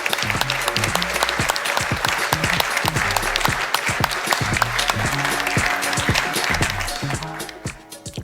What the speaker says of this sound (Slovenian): si zares zaslužite en velik aplavz in poklon